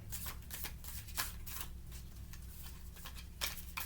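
Tarot cards being shuffled by hand during a reading, soft papery riffles and flicks with two sharper snaps, faint and close over a low steady hum, with no talking.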